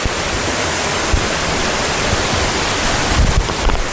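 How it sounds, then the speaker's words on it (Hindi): A waterfall beside a cave in dense jungle, heard as a steady, full roar of rushing water that fills the whole stretch without a break. "सत्संग के दौरान अगल बगल से आपको झरने की आवाज़ सुनाई देगी"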